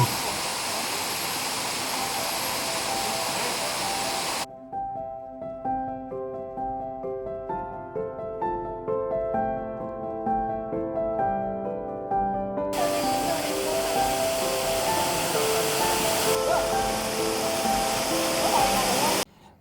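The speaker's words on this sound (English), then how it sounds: "the water tumbling down to the pool at the bottom" Water rushes steadily down a small waterfall into a pool in Tabin Wildlife Reserve, Borneo, a constant broad splashing roar that gives way to a stretch of music in the middle before returning.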